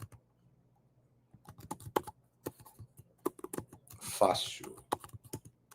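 Someone types a web address on a computer keyboard, producing scattered, close key clicks in short uneven bursts, with a voice speaking briefly in the middle.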